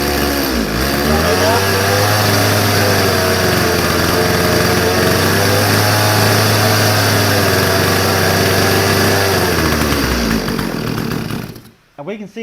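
Stihl chainsaw freshly carburetor-tuned runs loud and close, a buzzing two-stroke drone with a couple of throttle surges before cutting out near the end.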